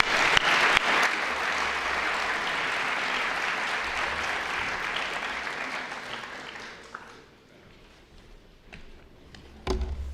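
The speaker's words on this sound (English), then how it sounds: "it would be great to welcome Professor Volf with a very warm applause." Audience at an academic lecture applauding to welcome a Yale professor, a steady sustained clapping that fades out after about seven seconds into a quiet room, with a couple of faint knocks at the end.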